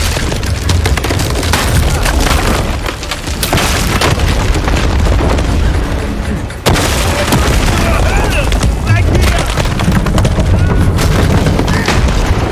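Dense gunfire and booming explosions from the Uncharted 4 video game in a sustained loud firefight, with heavy impacts and crackling shots layered continuously, and a voice speaking in places.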